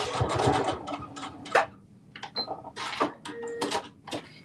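Sewing machine running a short back stitch, a few quick bursts of rapid mechanical clatter separated by brief pauses, close and alone without talk.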